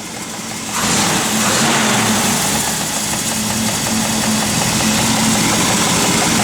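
A 1967 Chevrolet Camaro RS convertible idles with slight belt noise, a loud, steady close-up engine drone that runs unbroken after a quieter first second, with no talking.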